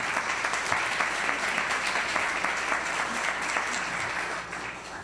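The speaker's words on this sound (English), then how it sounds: "so just go ahead and clap for everyone." A courtroom audience at a judge's investiture ceremony claps for the assembled guests, a broad, even wash of many hands applauding that stays steady before easing off slightly near the end.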